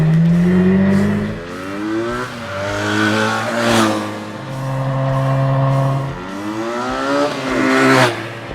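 A Benelli TNT300 parallel twin-cylinder motorcycle revs hard, climbing through several gears in rising, falling sweeps, loud and close, with brief shifts between pulls and no voices.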